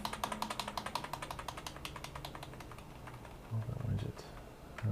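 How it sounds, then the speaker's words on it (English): A computer keyboard key is tapped rapidly and repeatedly on a custom-built PC to enter the BIOS, a fast run of crisp clicks that thins out, followed by a few thumps and faint voices. "To get to the BIOS, just hit the delete key on the keyboard and wait for the BIOS to come up."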